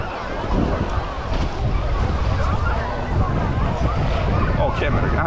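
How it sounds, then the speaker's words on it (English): Wind blowing by the sea at San Vito in Sicily, a steady broadband rush with gusty buffeting against the microphone, waves faintly mixed in, continuous throughout. "A little bit of wind."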